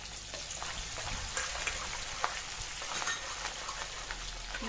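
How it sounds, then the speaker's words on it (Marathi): Green chilies frying in hot oil for chivda, a steady close crackle and sizzle with scattered pops throughout, no talking. "मिरच्या पण अगदी कडक होईपर्यंत तळायच्या आहे"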